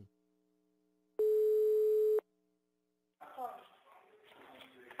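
A single steady telephone line tone lasts about a second on a prank call, loud and clean over silence, and voices talk afterward.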